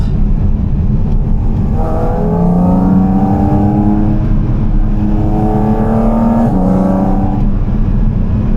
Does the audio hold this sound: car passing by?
yes